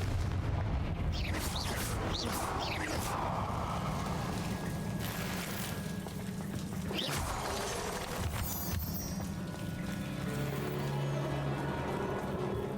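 Repeated Confringo blasting spells in Hogwarts Legacy, heavy booming blasts and rumbling impacts with crackling bursts running continuously over a dense low background, loud and close.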